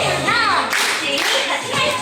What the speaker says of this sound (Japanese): ダンスをするには手拍子を2回します